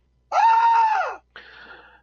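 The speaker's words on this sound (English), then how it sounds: "a terrible, deafening scream subdues him" A terrible, deafening scream of fallen angels in an empty room, one loud sustained wailing cry followed by a shorter, fainter second wail.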